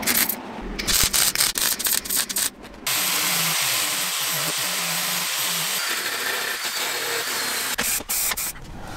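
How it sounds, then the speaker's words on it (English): A flat grinding disc takes down the tops of welds on a rusty rocker panel sill at the jacking point, starting with short choppy bursts, then settling into a long, steady abrasive grind. "I've also used the flat disc to take off the tops of all the welds"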